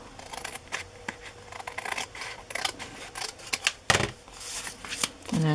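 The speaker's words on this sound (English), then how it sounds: "And then flip it back over and cut the same angle again." Scissors snip and rustle through paper as it is cut at an angle for a scalloped pocket, with a series of close, crisp cuts and paper handling.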